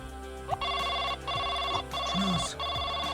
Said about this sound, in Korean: 주주한테 전화 걸어볼래?